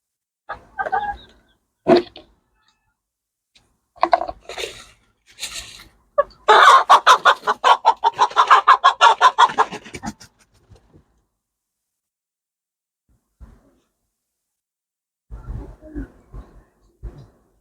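Young chickens cluck as they hurry toward a tin of feed, a few scattered short calls, then a dense run of rapid clucking close by, fading into quiet with a few final clucks.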